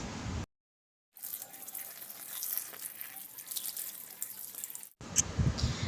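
Tap water runs steadily into a container being filled for a household shrine, a continuous splashing hiss lasting several seconds between short gaps of near-silence, close and fairly loud.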